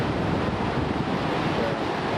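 A waterfall in a Norwegian valley gives off a steady, broad rushing roar. It is loud and continuous with no breaks, and wind buffeting mixes into the sound.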